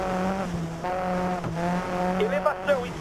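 Rally car engine from the Sebastien Loeb Rally EVO video game drones steadily at high revs, with brief tire squeals and pitch wavers near the end, while someone talks over it.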